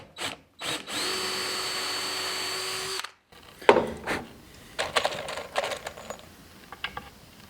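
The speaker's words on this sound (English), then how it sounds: "I didn't think about that when I'm drilling into it." A power drill whines steadily as it drives a screw into wood for a rabbit nest box, then stops, followed by scattered clicks and knocks of handling the wood.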